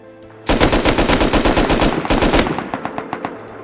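Rapid automatic gunfire in the game Rust, a loud, close burst of evenly spaced shots lasting about two seconds, then a few slower scattered shots tailing off.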